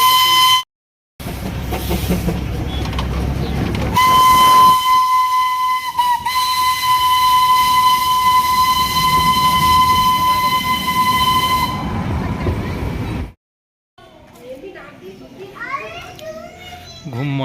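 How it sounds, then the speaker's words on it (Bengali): Ambience at Ghum railway station in Darjeeling, 7400 feet up, with children playing and chattering nearby and a long, loud steam whistle sounding steadily for several seconds, then fading into quieter voices. "এটা হচ্ছে ঘুম স্টেশনটা"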